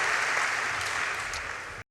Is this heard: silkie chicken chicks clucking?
no